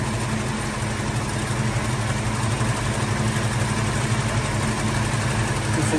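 A Valiant Charger engine idles steadily while its coolant is flushed, a continuous low rumble with an even, unbroken tone and no talking.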